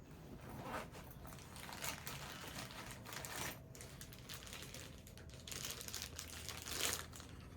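Steady crinkling and rustling of thin plastic, close up, with scattered sharper crackles throughout and no voices.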